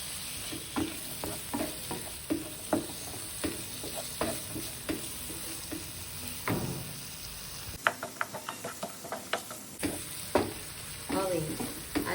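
Finely chopped tomato and capsicum fry with onion in a hot pan for masala pav, with a steady sizzle under repeated scraping stirs of a spoon, loud and close.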